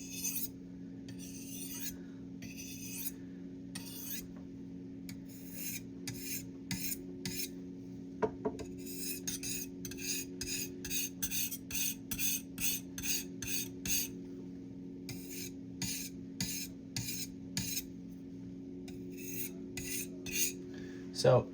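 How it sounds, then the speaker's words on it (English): A knife is drawn in repeated rasping strokes across a white ivory natural whetstone, the strokes coming in quick, evenly spaced bursts over a low steady hum, close up with no talking. "you're gonna get a streak of metal every sharpening stroke"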